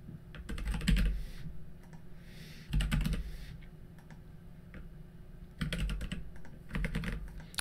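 A computer keyboard clatters in short quick bursts of keystrokes, close and fairly quiet, with pauses between the runs of typing in a Typora markdown editor.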